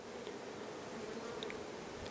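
Honey bees buzz steadily inside a hive of about 20,000 bees on a farm, a dense, continuous close-up drone with no pauses and no voices.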